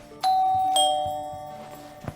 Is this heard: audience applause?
no